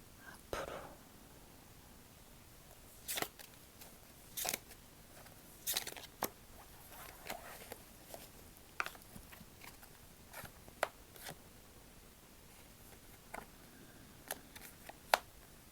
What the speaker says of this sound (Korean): 추가 카드 좀 받아볼게요.